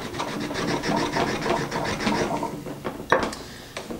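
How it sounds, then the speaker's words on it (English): A whole lemon is rubbed over a Grater Plater grater, giving steady rasping, scraping strokes in a quick rhythm, close and fairly loud, with a sharper knock near the end. "Can we get some lemon zest using the grater plater?"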